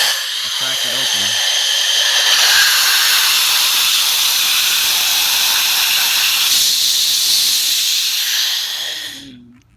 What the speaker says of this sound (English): So what I'll do is I'll release it into the atmosphere, to the outside. I'll crack it open.